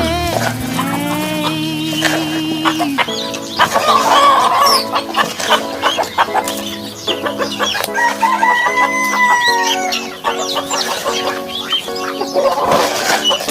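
Pet chickens and ducks, including Rhode Island and Black Australorp breeds, cluck, crow and squawk together at close range in a busy, overlapping chorus, with roosters crowing and a person speaking briefly among them.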